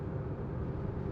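Steady low tyre and road rumble inside a moving Maruti Suzuki Fronx, a dense even drone with no breaks and no voices, fairly loud and continuous throughout.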